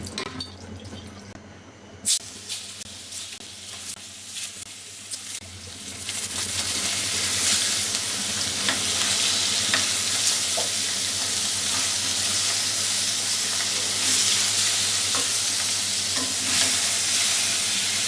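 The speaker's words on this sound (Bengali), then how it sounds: "আমি হচ্ছে মাছগুলোকে আগে ভেজে নিই।" Fish rubbed with salt and turmeric hits hot mustard oil in a wok, and a loud, steady sizzle builds and holds for many seconds after a few quieter scrapes and clinks at the start.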